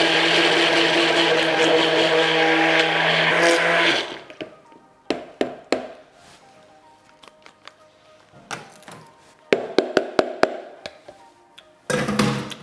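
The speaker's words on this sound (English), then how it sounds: "You're just going to blend this." A food processor or blender whirs loudly and steadily while blending chocolate beetroot cake batter, then cuts off after about four seconds, followed by scattered taps, clinks and scraping.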